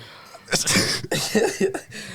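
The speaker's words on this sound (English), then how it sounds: "When you gotta sneeze, you gotta sneeze." A single loud, close burst like a sneeze, followed by a few short throaty exhalations and a rough voice.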